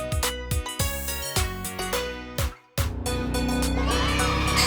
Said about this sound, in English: it's a horse. Hello, horse.